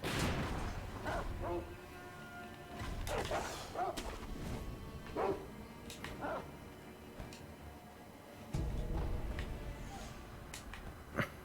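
Dogs bark in the video game Sekiro in short, sharp bursts, quiet and spread across the clip, mixed with faint game clatter and thumps.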